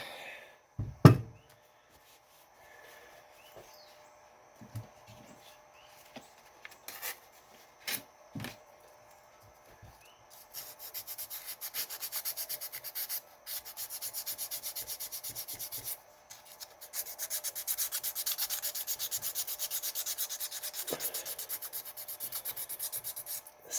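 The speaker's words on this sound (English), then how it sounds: "Just some 600 grit. Try to smooth off the rough edges a little bit." Fine 600-grit sandpaper rubs on the bearing surface of a front hub shaft from a Massey Ferguson GC2310 tractor. Soft, faint strokes come first, then long steady scratchy passes with brief pauses, and no one speaks.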